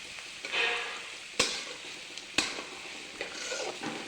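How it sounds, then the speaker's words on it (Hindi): Onions frying until browned for a desi-style chicken curry give a continuous sizzle, with two sharp clanks of a spoon against the pan and intermittent stirring scrapes. "प्याज लाल होने तक भुनना है"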